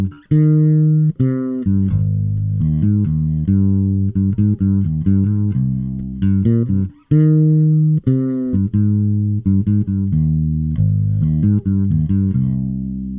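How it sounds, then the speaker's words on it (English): Fretless bass with partly worn roundwound strings, pickups blended in the middle, plays a steady run of bright, growly sustained notes and slides, close and loud, with no voices. "And now with the roundwounds."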